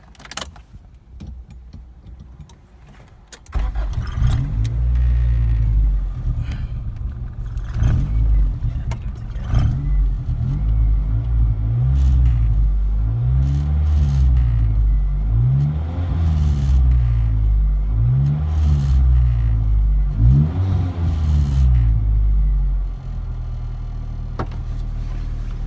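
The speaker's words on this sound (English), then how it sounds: "Let's start her up." A Honda Civic hatchback engine, treated with Sea Foam during a tune-up, cranks and catches, then idles and is revved repeatedly in rising and falling swells before settling back to a steady idle, close and loud.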